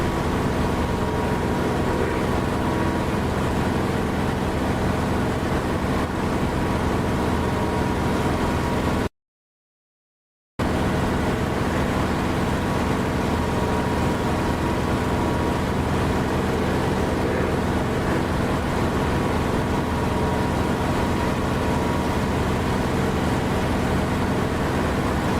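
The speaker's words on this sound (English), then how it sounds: "do I need to bring the engine sound down a bit, Steggy?" Constant droning aircraft engine in the DCS flight simulator game, a steady loud hum with a broad rushing wash, broken once by a brief silent gap before resuming unchanged.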